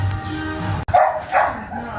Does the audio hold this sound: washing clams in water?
no